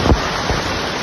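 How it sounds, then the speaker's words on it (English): Heavy rain pours in a dense, steady hiss during a flooding storm on Lanzarote in the Canary Islands, with a brief low rumble at the start. "which resulted from 2 hours of torrential rain on Saturday afternoon, April 12th"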